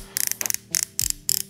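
Quick bursts of rapid mechanical clicking from a Histar Aurora Air fishing reel's drag, several short ratcheting runs in a row, close and crisp.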